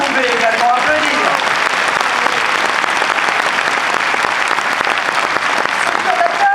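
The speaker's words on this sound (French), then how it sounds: "à notre tonitruant collègue Gilbert Collard, que vous pouvez également applaudir." Loud, dense crowd applause fills a Front National party congress hall in Lyon, continuous clapping throughout with a few voices rising over it at the start and end.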